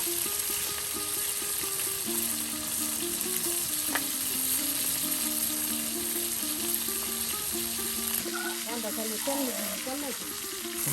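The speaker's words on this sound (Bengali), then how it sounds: "সুন্দর করে মশলার সাথে তাওয়ায় কিন্তু একদম সুন্দর করে মাছগুলো ভাজি করে নেওয়া হচ্ছে।" Silver carp fish pieces fry with spices on a flat tawa, producing a continuous close sizzle and crackle under steady background music, with some brief bubbling and splashing near the end.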